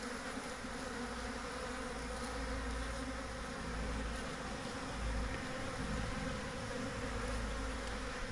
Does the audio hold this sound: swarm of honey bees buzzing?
yes